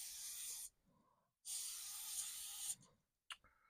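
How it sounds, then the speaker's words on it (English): DeOxit contact cleaner sprayed into a Commodore Vic-20 computer: two bursts of bright aerosol hiss, the second longer, separated by a short pause, with a faint short spurt at the end; quiet and close. "We're going to spray in some DeOxit."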